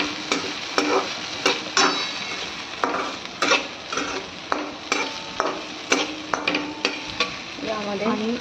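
Dal and upma ingredients sautéed in a pan, with loud, sharp spatula scrapes and taps against the metal at an uneven rhythm over a continuous sizzle.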